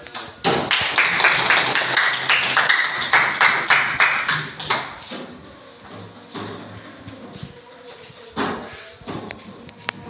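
Students in a classroom clapping their hands, a loud burst of claps in the first few seconds that thins out into scattered individual claps and taps.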